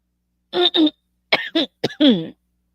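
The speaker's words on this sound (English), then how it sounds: "I'm sorry, I'm not meaning to cough," Several throaty coughs in quick bursts, close and fairly loud, with short pauses between them and no talking.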